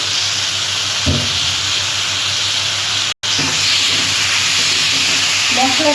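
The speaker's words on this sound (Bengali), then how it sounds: "তরকারিটা কষা হয়ে গেছে মশলা দিয়ে" Vegetable curry with spices sizzles and fries in a pan, a steady loud hiss with a few stirring scrapes and a brief dropout midway.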